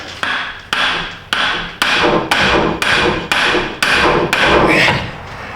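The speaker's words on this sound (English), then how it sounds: "Just needed the brass hammer." Nine sharp metallic brass hammer strikes on metal in a steady rhythm, loud and close, each blow ringing briefly before the next, in a repair shop.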